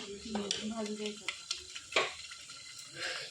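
Mutton coated in ginger-garlic paste roasts in a pan over a wood-fired chulha, with a spoon stirring and scraping through a soft sizzle in short, uneven strokes. Faint voices sit in the background.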